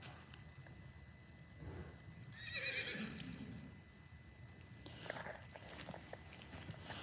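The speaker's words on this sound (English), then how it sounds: "Horses are running." Horses run loose; one whinnies loudly midway, with hooves thudding and shuffling on the ground around it and a second fainter neigh later.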